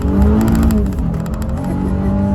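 Engine growl from a Honda Ridgeline Sport with a 9-speed automatic as the driver pulls the paddle shifters, a steady loud droning rev heard from inside the cabin with rhythmic pulsing through the shift, no talk over it.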